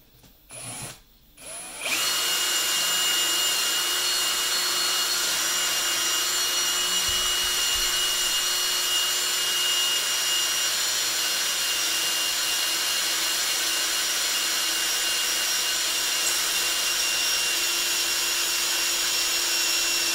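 A CNC machine drills a hole with a loud, continuous whine and grinding that holds steady for the whole stretch, after a few short bursts at the start.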